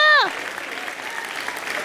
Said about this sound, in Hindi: मम्मी के लिए तालियां।